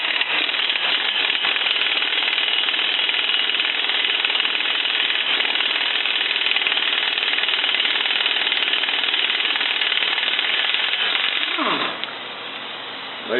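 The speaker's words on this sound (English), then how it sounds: "take your 24 millimeter socket with a breaker bar or air tool. I'm using my old faithful Chicago pneumatic." An over-20-year-old Chicago Pneumatic air impact wrench with a 24 mm socket loosens a lower control arm nut on a Toyota Camry, hammering loudly and continuously for about twelve seconds before winding down.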